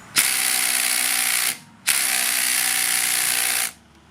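Makita 40V TD002G impact driver works on car lug nuts in two long bursts of loud, rapid mechanical hammering, each about one and a half seconds long with a brief pause between them.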